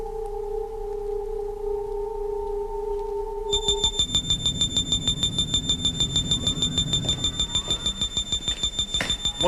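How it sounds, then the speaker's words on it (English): An electronic intruder alarm in a science-fiction TV drama: a steady two-tone hum abruptly gives way to a loud, high, rapidly pulsing electronic warble that keeps repeating. "It's the intruder alarm."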